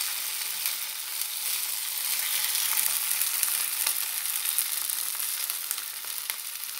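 Belarusian potato pancakes, draniki, fry in a pan, giving a steady, dense crackling sizzle with scattered sharp pops throughout, close and even in loudness, with no voices.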